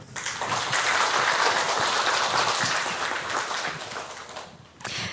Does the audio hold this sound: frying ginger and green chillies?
no